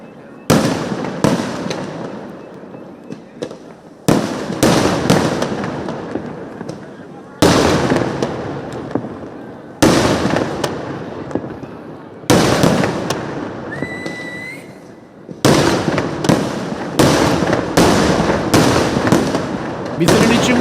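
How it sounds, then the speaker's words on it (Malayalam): A Thiruvambady sample fireworks display at Thrissur Pooram: repeated volleys of loud, rapid crackling bursts and booms, separated by short pauses, with a whistle briefly rising over the din. "വിസിലടിച്ചും കൈയടിച്ചും തിരുവമ്പാടിയുടെ സാമ്പിൾ വെടിക്കെട്ടിനെ ആരാധകർ ആസ്വദിക്കുകയാണ്, അഭിനന്ദിക്കുകയാണ്."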